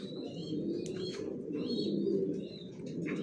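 Johnson red checker racing pigeons coo softly and steadily in a loft, a low continuous murmur with a few faint chirps and brief wing flutters over it, no voices.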